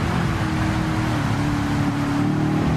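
A race car engine at Suzuka in heavy rain holds a loud, sustained droning note close by, with a steady pitch and no pause.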